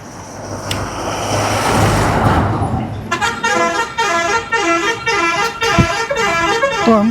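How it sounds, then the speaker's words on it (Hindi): Heavy traffic on a dangerous highway along a Narmada pilgrimage walk, with a bus roaring close by and then a long run of repeated, melodic horn honks blaring loudly over the steady road rumble. "हाईवे तो बहुत ही डेंजर हाईवे है, बहुत ही ज़्यादा यहाँ पर जो है ट्रैफिक है।"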